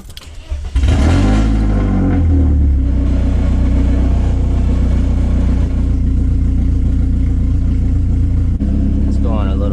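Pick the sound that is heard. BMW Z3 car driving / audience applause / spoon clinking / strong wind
BMW Z3 car driving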